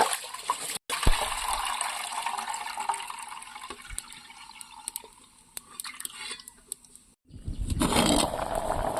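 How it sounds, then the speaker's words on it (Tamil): Water splashing and trickling as parboiled rice is rinsed two or three times in a home kitchen, a steady close pour that breaks off briefly near the end before a louder gush of water. "ஒரு ரெண்டு மூணு டைம் தண்ணி ஊற்றி நல்லா கழுவி பண்ணுங்க"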